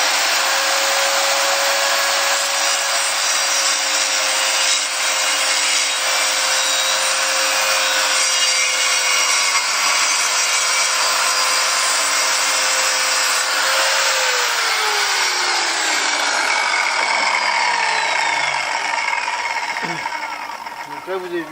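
A Bosch PKS 55 A circular saw cuts through wood, a loud, close, continuous whine with the blade pitch holding steady and then winding down as the cut ends and the motor spins to a stop.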